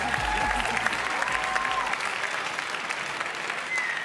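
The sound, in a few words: pageant audience applause for finalists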